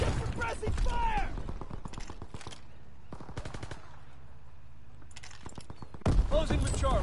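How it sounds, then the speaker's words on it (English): Rapid machine-gun and rifle fire rattles through a WWII video game battle, sustained bursts loud and close, with a louder volley near the end and radio-style voices speaking over it. "Get suppressing fire!"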